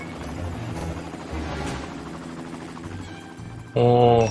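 A helicopter in a zombie rescue video game, arriving as a sudden loud rotor roar in the final half second after a stretch of quieter game sounds and effects.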